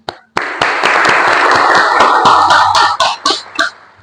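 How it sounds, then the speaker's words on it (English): A small audience claps after speakers finish a debate on mandatory vaccination, scattered hand claps building into brief applause that thins out into a few separate, distinct claps at the end. "A round of applause, please."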